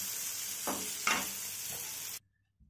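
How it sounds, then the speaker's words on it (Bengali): Potatoes sizzle steadily in a hot pan, fried until reddish, with a couple of soft stirring scrapes, then the sound cuts off abruptly. "আলুটাকে বেশ লাল লাল করে ভেজে নিয়েছি"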